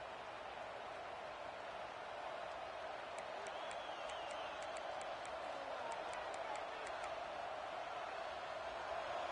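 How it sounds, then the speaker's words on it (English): Stadium crowd at a Texas A&M versus Texas college football game, a broad, distant-sounding roar sustained throughout, with faint scattered whistles and cheers rising over the wash of noise. "The roar of the crowd trying to fuel this defense to keep them pinned in their own end."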